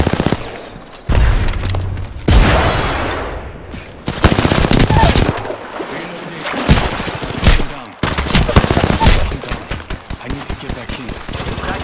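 Video game firefight with rapid bursts of loud automatic gunfire and sharp blasts, including a grenade explosion, repeated close and harsh throughout, with voices speaking in places.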